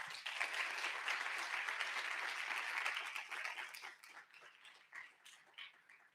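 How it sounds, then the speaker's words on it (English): An audience at a judicial summit gives a dense round of applause that starts full and then thins out into scattered claps as it dies away, with no talk over it. "So again, please join me in giving a big round of applause to Ms. Zhang, Ms. Jubin Brett, and Chief Jus"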